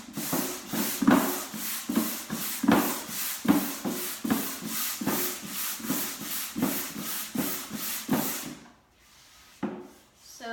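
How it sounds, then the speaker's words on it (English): Painted furniture sanded by hand with sandpaper, a steady rhythm of close, scratchy back-and-forth rubbing strokes, about two per second, stopping near the end with a couple of faint sounds after. "I like sandpaper. So what I'm gonna do right now is just smooth it out a little bit."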